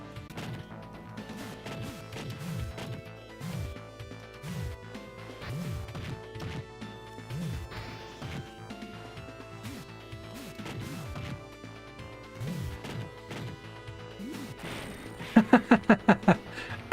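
Dragon Punch hits land in a Sega 32X fighting game, a run of punchy smacks and crashes over looping game music, ending in a quick burst of sharp hits.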